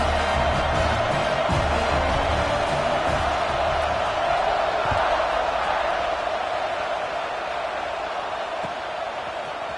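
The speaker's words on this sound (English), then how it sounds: "this crowd is buzzing after that last score" Stadium crowd in the NCAA Football 26 video game buzzing after a score, a dense steady roar of many voices filling the whole stretch with faint cheers and whoops rising now and then, with a commentator talking throughout.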